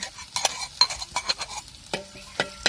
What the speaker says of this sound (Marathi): तवर मस्त तेल टाकून घेतलं आणि लसूण मीठ मिरची जिरे